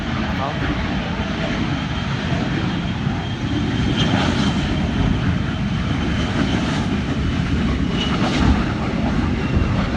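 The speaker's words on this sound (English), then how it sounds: "Ooh, it's a tri-jet." A tri-jet aircraft roars past overhead at an air show, a loud sustained jet engine noise that swells slightly midway, with spectators talking over it.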